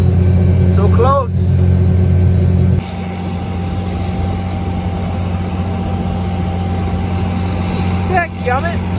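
A farm planter drives across a field while a cover crop is being planted, giving a loud, steady engine drone close to the microphone throughout, with people talking over it near the start and end.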